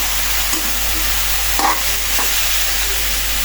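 A spoon stirs frying ash gourd and dried fish in a pan, giving a steady close sizzle broken by a few soft scraping strokes.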